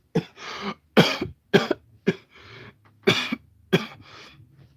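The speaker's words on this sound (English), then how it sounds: "I wish I do that without coughing" A person coughs in a series of sharp, close bursts, five or six hacking coughs spaced unevenly with raspy breaths between them.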